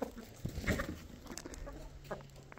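Indian roosters and hens cluck softly in a rural setting, short low clucks and scattered calls at a moderate distance with light background noise.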